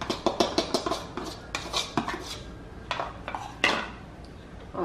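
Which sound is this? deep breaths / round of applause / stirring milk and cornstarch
stirring milk and cornstarch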